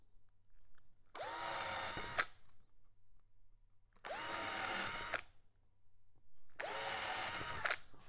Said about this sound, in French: Quand vous avez prépercé tous les trous